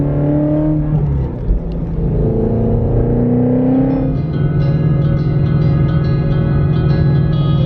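A 2017 Shelby GT350 drives and revs loudly up close, its engine note climbing through gear changes and then settling into a steady rumbling cruise, with no talking.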